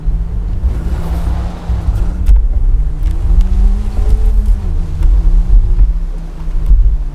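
A new Land Rover Defender 4x4 engine labours as it tries to climb off-road in jungle terrain, a low droning strain rising and falling with revs, close, loud and buffeted by wind.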